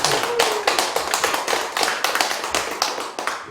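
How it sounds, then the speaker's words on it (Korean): An audience at a church charity concert applauds after a violin performance, producing a steady patter of many hand claps at moderate volume with no voices over it. "박수 한 번 더 크게 보내주십시오."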